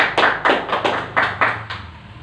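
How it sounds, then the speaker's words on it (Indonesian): A small group claps for a student in a classroom lesson on Islamic moral character: several distinct bursts of hand claps, close and fairly loud, fading toward the end, with no talking. "Tepuk tangan dulu untuk Ildan."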